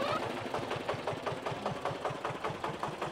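A micro tractor, smaller than a mini tractor, runs nearby with a rapid, steady chugging engine beat that knocks evenly throughout at moderate volume.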